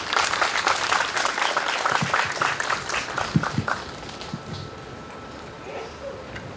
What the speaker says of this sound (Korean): 또 마음을 담아서 큰 박수로 모시도록 하겠습니다.